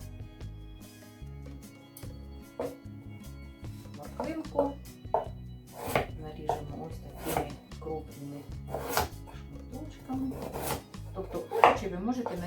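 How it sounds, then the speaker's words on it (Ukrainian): A knife cuts young vegetables into large pieces on a board, making irregular dull knocks close by while a person talks over them. "різати, як вам заманеться, як вам подобається. Але головне, щоб це були досить крупні шматки."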